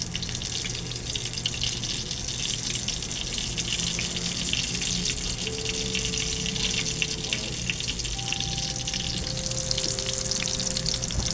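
Eggplant omelette sizzling steadily in a pan, a constant close frying hiss with faint watery crackle throughout, no talking.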